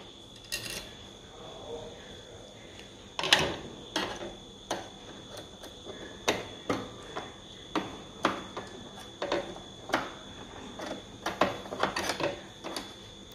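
Clicking and ratcheting of a screw being driven into a stitching machine, a run of sharp, evenly spaced ticks close by in a quiet room, with faint shuffling between them.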